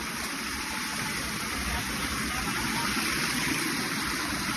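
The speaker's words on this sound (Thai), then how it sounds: "น้ำตกครับน้ำตก" A natural waterfall on Phu Phang Khi near Udon Thani, Thailand, gives a constant, full roar of rushing water, steady and fairly close, with no breaks.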